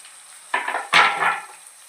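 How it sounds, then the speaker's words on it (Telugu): Chopped onions hit hot oil in a pan for a cauliflower, carrot and potato curry, giving two bursts of bright sizzling that hiss close and loud and then ease slightly. "నూనె వేడెక్కిన తర్వాత ఉల్లిపాయలు వేసుకోవాలండి"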